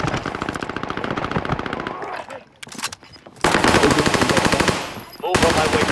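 Rapid automatic gunfire from a battle royale video game rattles in loud bursts, pausing briefly before another long stream of shots resumes.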